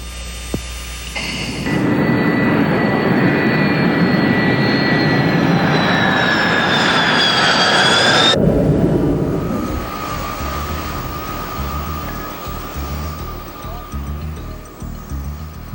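Loud, sustained roar of an F-18 Hornet jet engine with a rising whine. It holds steady for several seconds, then drops to a lower, rumbling hum as the aircraft recedes.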